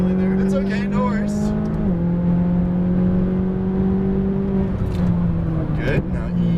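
A Lamborghini Huracan Performante on a race track at EXR Las Vegas, its loud steady engine drone droning from inside the car, with the pitch dipping at gear shifts, while a person talks.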